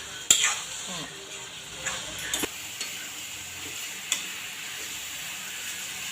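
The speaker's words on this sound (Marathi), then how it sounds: "अंडी पण टाकायची आणि ते व्यवस्थित मिक्स करून घ्यायची" Minced meat cooks with eggs while a spoon stirs and mixes them in a pan. Quiet sizzling sits under scattered scrapes and taps of the utensil against the pot.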